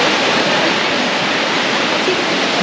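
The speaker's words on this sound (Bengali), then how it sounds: "জল চলে আসছে এখান পর্যন্ত।" Water rushing and flowing right up to a mountain roadside in Arunachal, near Sela Pass: a loud, close, continuous roar of churning water with no voices.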